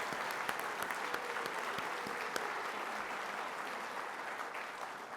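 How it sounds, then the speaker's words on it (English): Audience applause at an association's annual conference, a sustained dense wash of clapping from a large crowd, steady and even throughout, heard alone with no talk over it. "Let's give them all a big round of applause for their service to our association."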